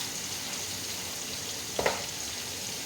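Jackfruit chips frying in hot oil in a wide pan, a steady soft sizzle throughout with a brief louder crackle or clink partway, no voices.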